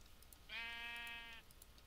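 A single clear sheep bleat from a Minecraft-style video game, one sustained, nasal, tonal call lasting under a second over quiet game background.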